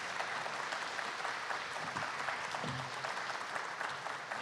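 Audience at a parish candidates forum applauding the candidates, an even, sustained patter of many hands at moderate level, heard alone without speech.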